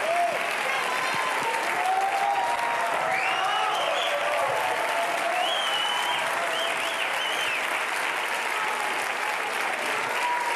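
Sustained audience applause fills the hall at a stage magic show, a broad, even roar of clapping lasting throughout, with faint voices and a few brief cheers or whistles rising above it.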